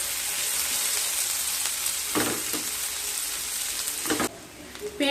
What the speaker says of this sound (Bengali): পেঁয়াজ আর রসুনকে হালকা ব্রাউন কালার করে ভেজে নিয়ে তারপর ফিরে আসছি।